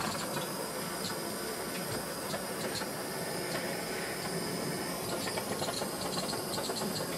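A portable gas soldering iron hisses steadily with its gas turned up high, a dense unbroken rushing noise that stays loud and even throughout.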